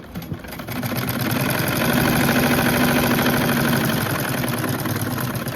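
A sewing machine stitches the mouth of a trouser pocket, giving a steady, close whirring motor hum with a fast, even stitching rhythm that runs continuously for several seconds with no talk.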